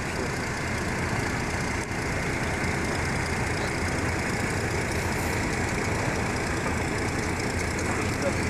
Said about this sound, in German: Ja, 16 Motoren, was ist das 16 Zylinder Rolls-Royce?